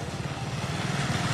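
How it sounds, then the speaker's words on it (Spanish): Motorcycle engine straining on a storm-damaged street with a suffering radiator hose, a rough, steady low drone close by with no talking. "Ve esa pobre moto, vea."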